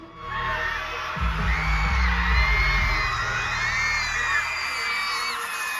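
Crowd at a concert in Abu Dhabi roaring and whooping as the group appears, a dense sustained cheer with heavy low thumps underneath, loud and filling the space throughout.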